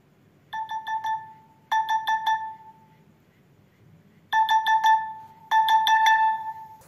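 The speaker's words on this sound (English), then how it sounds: "The next option will make your phone ring out when your earphones are disconnected from the device" An Infinix Hot 50 Pro Plus smartphone rings out after its wired earphones are unplugged: four loud bursts of rapid chiming tones, each a quick run of bell-like notes with a short lingering tail, separated by quiet gaps.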